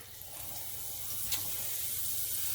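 Brioche buns grilling in a pan for a Mexican-style BLT, a soft steady sizzle with a faint watery hiss, quiet and close with no voices.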